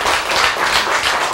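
A group of people claps together in a lecture or sermon setting, a dense burst of steady clapping lasting just over a second, loud and close with no talk over it.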